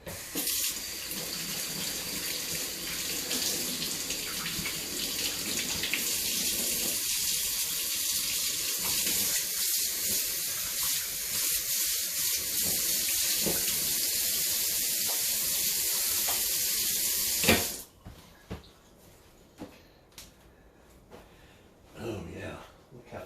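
A kitchen tap runs steadily while hands are washed near a sushi prep area, a continuous close rushing stream for most of the clip before it shuts off, leaving faint clicks and a quieter room.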